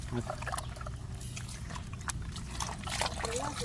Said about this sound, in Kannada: ಇದು ಹಾಕ್ಲಾ ನೀರು?